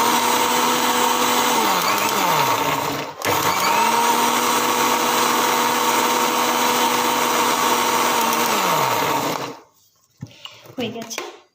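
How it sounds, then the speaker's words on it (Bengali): A kitchen blender grinds a mango smoothie in a loud, steady whir that dips briefly, runs on for several seconds, then winds down and stops, followed by faint clinks. "গ্রাইন্ড করে নিলেই রেডি হয়ে যাবে আমার স্মুদি।"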